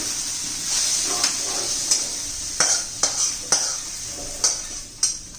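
Lima beans (pavta) sautéing in a pan on the stove, with a steady sizzle of frying and a string of sharp scraping stirs of the spoon against the pan at irregular intervals, close and clear, with no talk.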